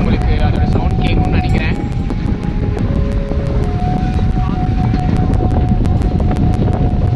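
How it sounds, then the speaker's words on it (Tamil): Steady, loud wind rush buffeting the microphone outdoors at Pykara Boat House on a lake near Ooty, with a low rumble throughout and faint tonal hums drifting in the background. "இயற்கை காற்று உங்களுக்கு அதோட சவுண்ட் கேட்கும்னு"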